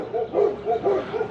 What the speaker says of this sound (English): Dog just saying good morning